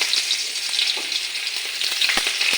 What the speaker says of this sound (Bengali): পেঁয়াজটা আর কাঁচা লঙ্কাটা ভাজা হয়ে যাক